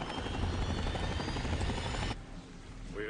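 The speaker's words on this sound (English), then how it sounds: "I got the helicopter noise." Helicopter noise in Fallout: New Vegas, a loud, dense rotor roar filling the scene before cutting down abruptly to a quieter rumble near the end.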